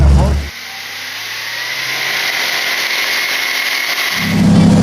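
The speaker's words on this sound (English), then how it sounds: "I never expected a V8 outboard to perform like this." A Mercury V8 4.6-litre FourStroke outboard motor runs with a smooth, steady low hum, fairly quiet and even, bracketed by louder rumbling bursts at the start and end.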